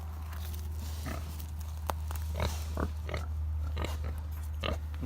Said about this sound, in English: It's kind of a pretty pig